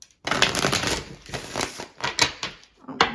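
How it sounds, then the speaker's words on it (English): Close-up shuffling of a deck of tarot cards, a run of crisp papery riffling bursts with short pauses between them. "So this one wants a good shuffle."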